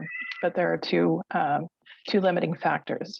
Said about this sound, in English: Excuse me, that's my cat.